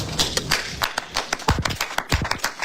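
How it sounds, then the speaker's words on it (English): People applauding at a school board meeting, a loose patter of hand claps from a modest crowd at middle distance, fairly quiet and uneven with no talking. "I like how everyone's applauding."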